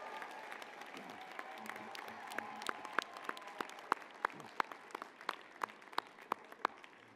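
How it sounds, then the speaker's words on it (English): Graduates clap and cheer in a university convocation hall, a soft spread of applause with a few sharp, close hand claps ringing out steadily over the crowd noise. "Wave and cheer, make some noise, show them how appreciative you are of them and all their work."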